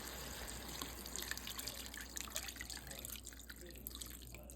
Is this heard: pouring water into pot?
yes